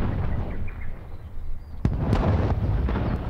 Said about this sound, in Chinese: 你们听东边这个炮声可一直都没停过呀